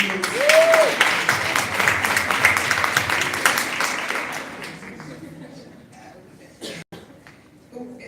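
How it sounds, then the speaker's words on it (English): Audience applause after a law debate on decolonization, a dense steady wash of clapping that fades gradually toward the end, with a brief voice or cheer rising above it. "I think they deserve another round of applause."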